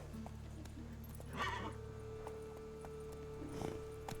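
A horse in The Witcher 3 video game whinnies twice, a short neigh early and another near the end, over soft clip-clop hoofbeats and a low game ambience, faint and without talk.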